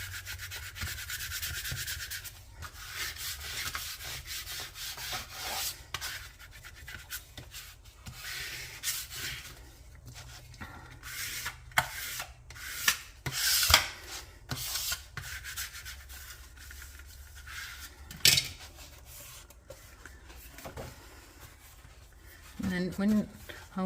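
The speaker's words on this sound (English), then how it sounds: "just use a brayer of some sort to burnish it on there" Rubbing and rolling friction as a brayer burnishes paper onto a page of a lay-flat art journal, long scraping passes with intermittent taps and handling noises, close up, mixed with a person talking.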